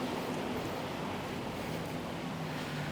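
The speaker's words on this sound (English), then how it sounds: "the shallow sets that roll in close to the shoreline, they create pretty easy waves" Ocean waves rolling onto the shore at a Da Nang beach, a constant broad wash of surf with wind noise, dense and steady throughout with no voices.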